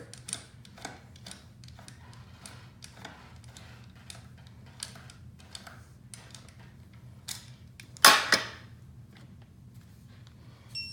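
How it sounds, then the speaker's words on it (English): Ratcheting clicks of a torque wrench tightening bolts during a four-stroke outboard boat engine install: a quick series of faint ticks over a steady low hum, with one louder clatter near the end. "I'm fixing to torque them with a torque wrench"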